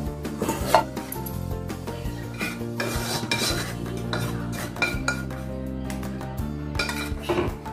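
A spoon scrapes and clinks steadily against a metal pan while roasted rice flour is stirred into a smooth sugar batter for a rice flour sweet, with close, repeated metallic knocks and rasps and no talking.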